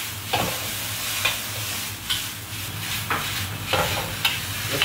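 Shredded potatoes sizzle steadily in a hot wok, with a spatula scraping and tossing every second or so in a loose rhythm, close and loud, with no speech.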